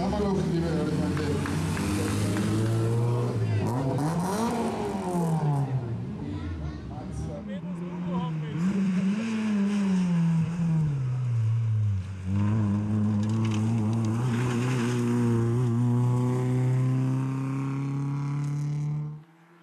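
A Suzuki Swift GT rally car at full throttle on a Hungarian rally stage, its engine note rising and falling loudly through gear changes and passing close by before cutting off abruptly at the end.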